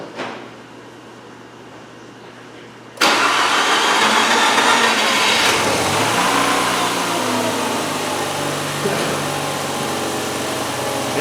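Quiet low hum, then a Mazda RX8 rotary engine abruptly cranks and catches, settling into a loud, rough, steady idle close by.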